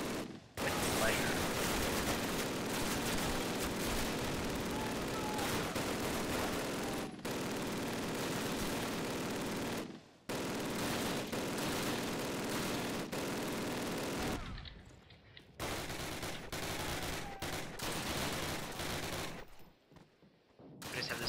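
Mounted machine gun in the Call of Duty video game fires in long, loud, dense bursts that run nearly continuously, broken by a few brief pauses and thinning toward the end, with possible talk underneath.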